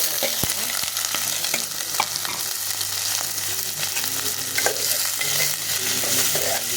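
Bitter gourd pieces with browned onion and garlic paste fry in hot oil, a continuous loud sizzle broken by scraping stirs and clinks of the spatula against the pan.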